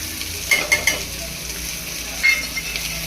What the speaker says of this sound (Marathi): चला आता जिरे हिंग टाकून घेऊया त्याला